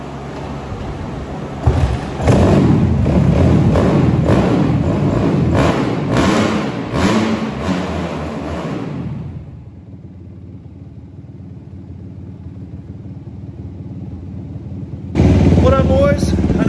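Engine of a 2005 Suzuki RMZ 250 dirt bike, bored out to 294, revving loudly and unevenly at close range for several seconds, then dropping to a low idle rumble before a brief burst returns at the end.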